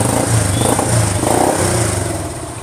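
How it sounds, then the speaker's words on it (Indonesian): Old Honda Super Cub motorcycle engine running close by, a busy, steady putter with light mechanical clatter and slight pulsing. "Mesinnya halus banget ini motor ini."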